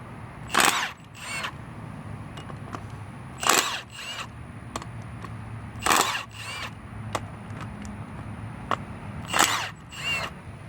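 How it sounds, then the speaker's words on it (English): Impact gun loosening wheel bearing bolts on a front wheel hub, several loud close bursts of rattling hammering spaced a couple of seconds apart, with short quieter blips in between. "This is how you do it with an impact gun."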